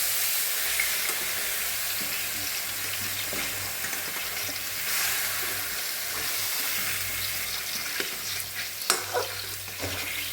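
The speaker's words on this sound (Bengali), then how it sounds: "আলু দিয়ে আরেকটু ভেজে নিতে হবে।" Potatoes frying with spices in a pan, a steady close sizzle with occasional stirring scrapes and a few sharper spatters, no voices.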